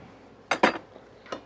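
Metal hive tool clinks inside a beehive during an inspection: three sharp metallic taps, two close together and a third after a short pause, fairly close and alone.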